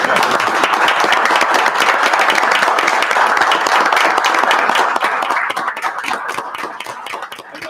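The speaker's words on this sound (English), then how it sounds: "You can clap for yourself." Loud, dense applause fills a township council meeting as the room claps for police officers honored for excellence, a steady roar of hands that thins and softens toward the end.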